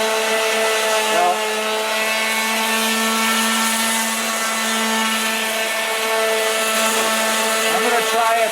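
A flap wheel on an angle grinder works the metal of a van's front brake rotor, an Astro or Safari. It gives a steady, loud motor whine with strong harmonic tones, a continuous drone with slight pitch dips and no talk.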